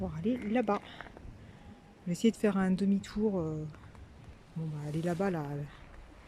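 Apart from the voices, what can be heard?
No everyday noise stands out behind the speech.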